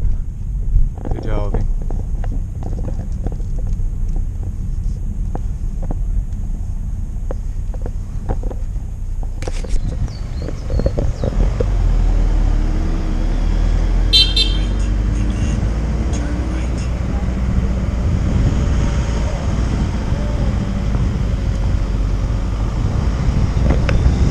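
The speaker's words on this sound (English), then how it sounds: "We've just picked up uh, Maverick's new bike, Crosstourer, 1200." Riding on a Honda Crosstourer 1200 motorbike, with a steady engine drone and heavy wind buffeting throughout, plus a few brief clicks and rattles near the start.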